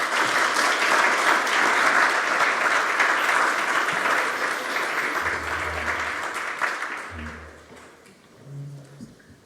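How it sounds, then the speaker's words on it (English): An audience applauds panel speakers at an innovation conference stage, steady dense clapping for about seven seconds before thinning out, with faint murmurs and low thumps as it fades. "Let's give our speakers a well-deserved round of applause."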